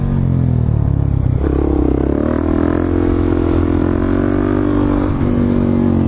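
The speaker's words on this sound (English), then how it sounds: "Did you hear that rev limiter?" A supermoto motorcycle engine screams at high revs, bouncing against the rev limiter in a loud, sustained, stuttering drone recorded close, with some clatter and tire noise during a burnout.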